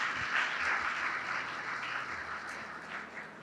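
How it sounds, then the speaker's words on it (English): Audience at an author's book event applauds steadily, a continuous wash of many hands clapping at moderate distance, fairly soft and even throughout. "let's give a round of applause to this wonderful author, Safeena Husain."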